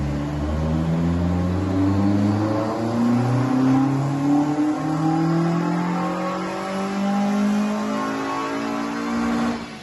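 A kit car with an Omex 600 ECU revs steadily on a rolling road during tuning, its engine note droning loud and close with harmonics climbing and falling through repeated rises in pitch.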